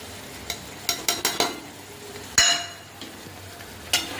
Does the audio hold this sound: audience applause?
no